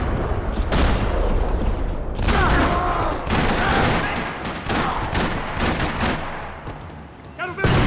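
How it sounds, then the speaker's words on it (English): Dense bursts of gunfire in a parking lot in Max Payne 3, loud and continuous, with rapid automatic rattles, scattered shots and impacts overlapping across the whole stretch. "Another parking lot rattling with gunfire."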